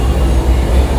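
A metro train at Kharghar pulling away, heard from on board as a loud, steady low rumble with no voices.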